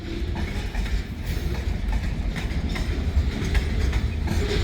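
A freight train rolls steadily past at full throttle across a county road crossing, a loud continuous rumble with clattering wheels and no break in the sound.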